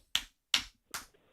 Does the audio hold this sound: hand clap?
yes